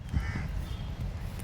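A crow caws in a children's park in Panjim, Goa, giving a few short, faint calls heard at a distance over low background rumble.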